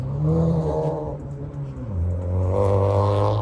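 The exhaust of a 2014 Subaru WRX hatchback drones with a low, throaty hum that dips, then swells as the engine revs up, close and steady.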